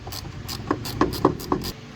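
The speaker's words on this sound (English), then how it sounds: "Now we'll grab our 8mm and loosen it from here." A ratchet clicks in short close bursts while loosening an 8mm bolt near the throttle body of a 2014 Jeep Wrangler JK, giving four or five distinct metallic ticks over a soft background rustle.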